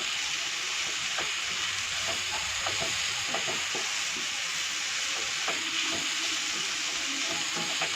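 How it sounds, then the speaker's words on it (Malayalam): Carrot and mixed vegetables for veg noodles stirred in a hot pan, with a constant loud sizzle and frequent scraping strokes of the spoon throughout. "എല്ലാം കൂടി ഇട്ട് നന്നായി ഇളക്കി കൊടുക്കുക"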